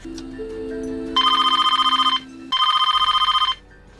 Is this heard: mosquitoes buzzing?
no